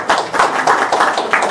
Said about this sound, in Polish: tak więc oklaski